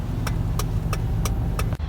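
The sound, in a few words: inside a moving car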